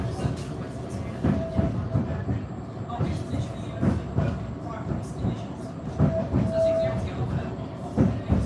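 A tram bound for Hucknall runs steadily along its rails with a continuous low rumble, rhythmic wheel clatter and a faint tonal whine, heard from inside the car.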